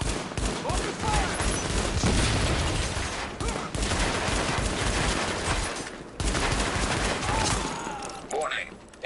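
Heavy sustained gunfire and rapid volleys fill a battle in Tom Clancy's The Division, loud and continuous with brief lulls, under occasional voices.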